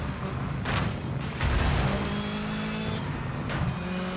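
Race car engine in the video game Dirt 5, a continuous revving and shifting drone with surges and tire noise, close and fairly loud, no talking.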